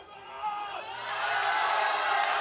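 A powerlifting crowd at a European classic championship cheers and whoops back at a lifter, the roar swelling from moderate to loud and sustained across the hall.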